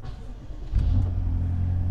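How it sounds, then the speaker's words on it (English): A BMW X5M/X6M engine starts up with a short cranking rumble that settles into a steady, deep idle, close and moderately loud. "I'm gonna turn the car on"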